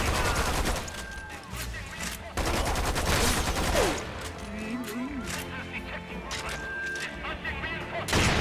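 Enemy gunfire in the shooter game Lost Planet 2, dense bursts of rapid shots with crashing impacts and brief pauses, loud and continuous, with someone talking over it.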